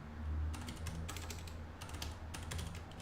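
Computer keyboard typing at a desk while setting up a ROS2 robot simulation, quick bursts of key clicks in irregular clusters over a low background hum, quiet and close.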